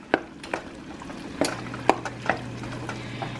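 A spoon stirs dry mustard into a cheese sauce for mac and cheese, giving a few soft scrapes and clinks against the pot over several seconds, with a low steady hum underneath.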